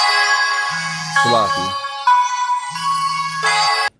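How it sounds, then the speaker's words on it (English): A phone's electronic ringtone chimes loudly and continuously in a melodic pattern while someone speaks over it, the tones cutting off abruptly at the end. "I don't know if y'all can hear the, phone going off or whatever."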